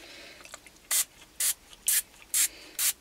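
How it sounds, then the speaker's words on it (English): Five short bursts of white spray paint hissing from a can onto an art journal page, evenly spaced with brief pauses between, close and fairly loud. "we're going to spray it white"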